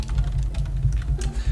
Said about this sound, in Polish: Wybaczcie, że takie dudnienie w klawiaturze.